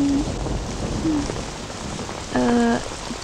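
Steady rain falls in a park, a soft even hiss that runs throughout, with a brief tonal sound rising over it near the end.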